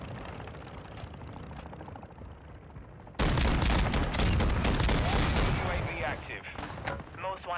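Video game helicopter: a low, steady rotor rumble that swells sharply and turns loud partway through, mixed with bursts of gunfire and explosions, with faint voices at times.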